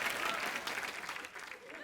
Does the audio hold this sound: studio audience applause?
yes